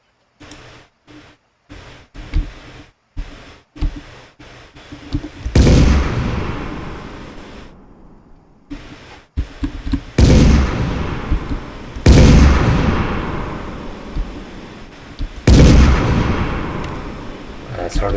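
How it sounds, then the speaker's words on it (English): Explosions in an Unreal Engine third-person game with damage and destruction effects: several loud, broadband booms with decaying rumbling tails, spaced a few seconds apart, following a run of sharp shorter pops. "It's hard to tell if I'm getting the explosion sound."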